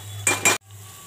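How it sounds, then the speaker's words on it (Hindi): Cooked dal being stirred into hot tadka tempering in a pan for dhaba-style dal: two quick metallic scrapes and clinks of a spoon against the pan, close and loud, then sudden quiet. "अब इसमें दाल को मिक्स करते हैं।"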